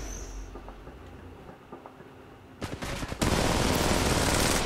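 Automatic gunfire in Apex Legends Mobile rattles in a short burst, then a louder, sustained spray of shots fills the end, over faint game ambience.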